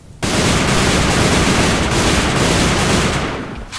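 Sustained burst gunfire from the online shooter AvA, a loud dense roar of rapid shots starting abruptly and continuing nearly the whole time before tapering slightly at the end, with no voice over it.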